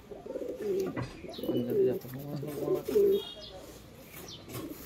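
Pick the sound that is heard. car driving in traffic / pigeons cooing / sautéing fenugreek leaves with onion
pigeons cooing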